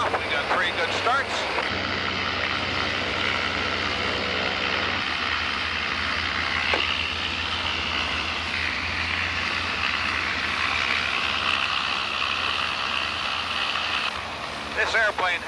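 Three Bushmaster airplane engines idle steadily after start, with a dense, continuous droning roar and a low rumble from the propellers, loud and sustained throughout, broken only by a few brief mechanical clicks.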